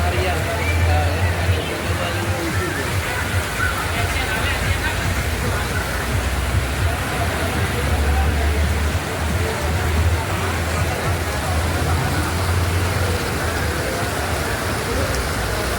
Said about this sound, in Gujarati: ડીસામાં જોરદાર વરસાદ છે ભાઈ